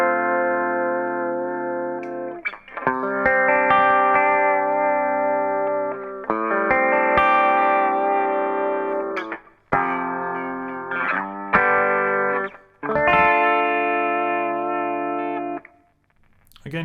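Electric guitar through a Boss Slow Gear warble pedal for a vintage tone, with chords swelling in and wavering, several bursts of picked notes and scratchy noises between phrases, moderately loud and alone.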